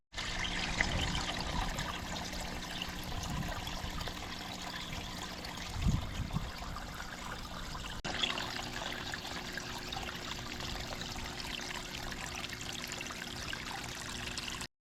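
Water trickles and splashes steadily down a small garden waterfall among creeping phlox and roses, a continuous close broadband wash with a brief low thump near the middle.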